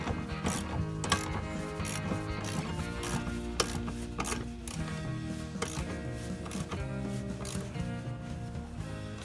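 A ratchet clicks steadily while two bolts are tightened to secure a fire extinguisher mount onto a rail in a Jeep JK, with a dense run of close mechanical clicks and no talk.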